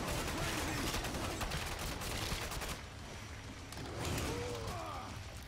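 Dense, continuous rapid gunfire from the Commando's weapon in the Killing Floor 2 video game, roaring steadily with mechanical clatter and brief game noises layered over it.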